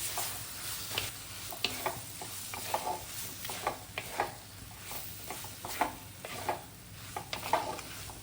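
Spices being fried and stirred in a clay pot for a Hindi home-cooked sabji of raw mango and ridge gourd: a steady close sizzle with repeated scraping stirs at an irregular rhythm, no talking.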